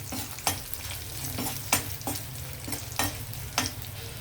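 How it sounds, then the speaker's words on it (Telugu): Cumin, mustard seeds and dried red chillies sizzle steadily in hot oil, broken by sharp, regular scrapes of a spoon stirring the pan about every half second to second, close and fairly loud with no voices. "ఇప్పుడు జీలకర్ర, ఆవాలు, ఎండుమిర్చి. ఇవి కూడా కొద్దిగా వేగిన తర్వాత మనం ఆనియన్ వేసేద్దాం."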